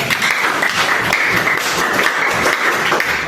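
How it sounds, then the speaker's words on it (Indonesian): Applause for group one during a teaching assessment session, a short, steady burst of clapping from a room of people that stays loud and even for about three seconds with no talk over it. "Oke, kasih tepuk tangan kelompok satu."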